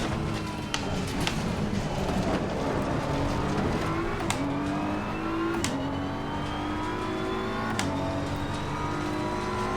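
BMW M4 GT3 race car engine in Assetto Corsa Competizione revs hard through the gears, pitch climbing and dropping sharply at each upshift, a loud continuous racing drone with no talk.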